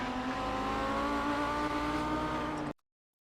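Audi 90 GTO race car engine at full throttle on the Laguna Seca circuit, a loud, steady high-revving roar with strong harmonic tones held for nearly three seconds before cutting off abruptly into silence.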